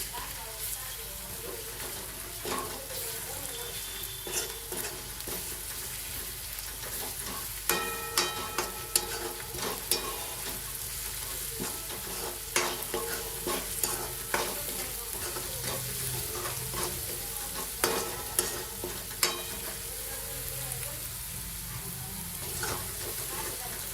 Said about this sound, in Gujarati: તમે જોઈ શકો છો ધીરે ધીરે સાતળવા લાગ્યું છે.